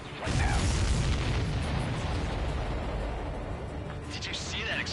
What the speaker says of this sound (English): Missile hit the supply ship dead on.